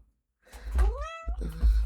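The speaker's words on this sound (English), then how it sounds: "Little Miss Pesky Cat, she's here, as usual." A video game cat gives a single clear meow, rising then falling, close and alone.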